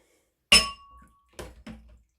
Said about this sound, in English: Nearly broke a glass.